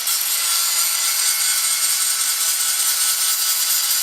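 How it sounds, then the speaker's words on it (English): An angle grinder grinding rust off a piece of metal: a loud, continuous, bright hiss with no break in the sound and no voices. "Now I'm just gonna get the grinder and grind down some of this rusty stuff."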